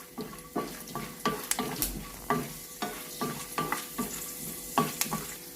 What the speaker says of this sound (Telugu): కొద్దిగా శనగపప్పు దీన్ని కూడా కొంచెం వేగనిద్దాం